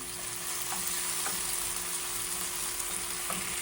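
Tomato, onion and jalapeño sautéing in a pan, a steady close hiss of frying with occasional faint stirring taps, continuous and unbroken with no voices.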